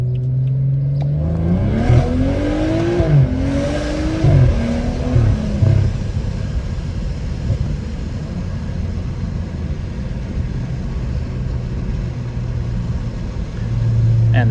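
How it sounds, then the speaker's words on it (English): A tuned BMW 335i accelerates hard through its first gears, its loud engine note climbing and dropping with quick shifts before settling into a steady roar. "And the first 4 gears go by quick. It sounds really good."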